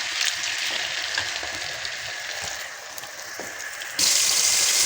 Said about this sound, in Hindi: आलूओं को मैं फ्राई करके डालती होती हूँ